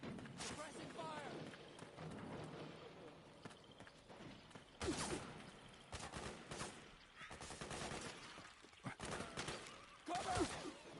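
Gunfire in Metal Gear Solid 4, rapid bursts of shots and heavy firing mixed with game noise, voices shouting over the action.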